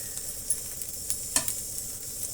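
Onion dosa with oil sizzles steadily on a hot pan, a continuous bright hiss close up, punctuated by a few light taps and scrapes of a utensil.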